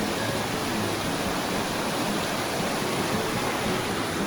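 Waterfall and mountain stream water in a valley near Ginzan Onsen, Japan, a steady, unbroken rushing roar that holds evenly throughout with no voices.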